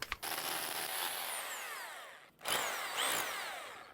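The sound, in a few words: power drill drilling through wall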